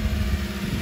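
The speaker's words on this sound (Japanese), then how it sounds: "で、これが4気筒の音です。" A Subaru Sambar kei truck's inline four-cylinder engine, mounted at the rear, runs at a steady idle with an even low rumble and a faint high whine. No one speaks over it.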